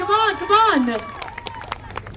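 Audience at a mall food carnival clapping, sparse individual claps in an uneven rhythm following a raised voice at the start, with murmuring crowd noise underneath.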